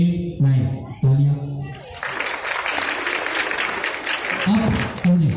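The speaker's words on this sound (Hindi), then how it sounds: "तालियां" A classroom of students in an on-site Python programming class breaks into brief applause, a burst of clapping sandwiched between the instructor's speech at the start and end.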